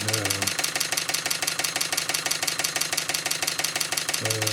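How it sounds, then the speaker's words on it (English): Markie GEM road roller engine running steadily with a fast, even ticking beat, near and continuous, while someone speaks briefly at the start and end. "It has the Markie tick in the engine, and everything is like it should be."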